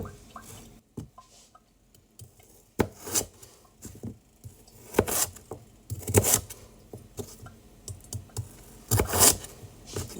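A turnip being cut into cubes with a knife on a wooden board, giving a series of crisp, irregular chops and scraping rubs at close range, with louder clustered cuts and no talking.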